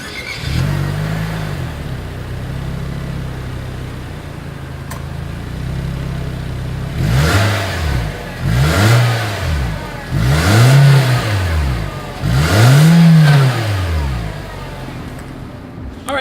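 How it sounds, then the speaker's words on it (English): A 2020 Nissan Versa with a single exhaust outlet idles steadily, then is revved four times in quick succession, each rev rising and falling in pitch, close up and loud with no talking. "Here is the exhaust clip for the 2020 Nissan Versa."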